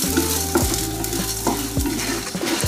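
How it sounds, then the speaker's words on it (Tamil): Chana dal and whole coriander seeds roasting in a pan, a close, steady sizzle broken by several sweeping scrapes of stirring, with no talking. "தனியா, முழு தனியா எல்லாத்தையும் சேர்த்து கொஞ்சம் வதக்கலாம்"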